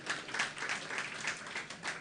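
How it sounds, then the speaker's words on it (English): A brief, faint burst of audience applause at a school ceremony, a soft, steady patter of many hands heard from a distance. "Please give her a round of applause."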